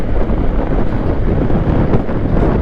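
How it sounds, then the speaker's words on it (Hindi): Steady, loud wind rushing over the microphone while riding a scooter near a tunnel on a mountain ghat road, a continuous broadband roar with no voices. "टनल के इस साइड तो एक्चुअली ठंडी ठंडी हवा चल रही है"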